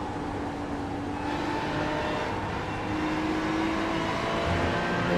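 Porsche GT3 race car engine at Monza in a racing video game, a steady sustained drone with rising pitch sweeps as the car accelerates, loud and continuous with no talk.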